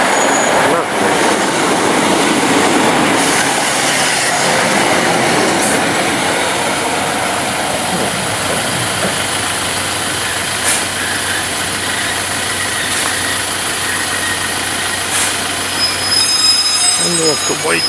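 A train passes close by at Heckington railway station, with a loud, sustained rumble of engine and wheels, a few squeals and a brief tonal whine near the end.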